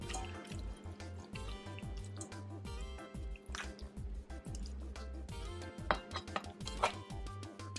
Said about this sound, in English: You just basically want to squeeze the coconut in the little strainer to make sure all of the liquid comes out